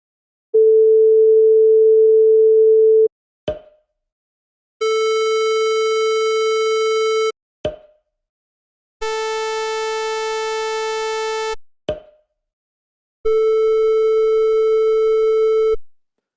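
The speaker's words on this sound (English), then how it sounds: "all those sounds had the same frequency of 440 Hz, but had different wave shapes" Four synthesized tones, all at the same 440 Hz pitch but with different wave shapes, from a pure sine to buzzier, richer timbres, each held steadily for about two to three seconds and separated by short gaps with faint clicks.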